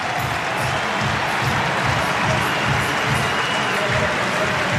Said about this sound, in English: And as the applause continues